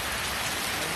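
Heavy rain pours down in Thailand during a motorcycle ride stop, a loud dense hiss of drops drumming on surfaces with no break.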